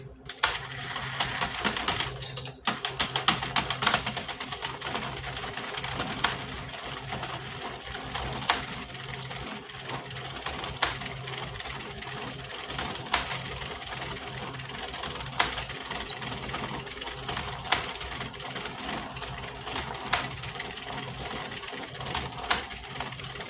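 A knitting machine runs continuously, knitting rows in a steady mechanical whirr with regular clacks as the carriage travels back and forth, loud and close, with no talking.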